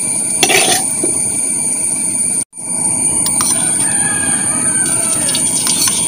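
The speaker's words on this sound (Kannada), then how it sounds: "ಇವಾಗ ನಾನು ಅದನ್ನು ಇನ್ನೊಂದು ಪಾತ್ರಕ್ಕೆ ತೆಗೆದಿಟ್ಟುಕೊಳ್ತಿದ್ದೇನೆ" Metal pots and utensils clatter and scrape close by as fried nuts are moved into another pot, with a brief silent gap midway before the clinking resumes.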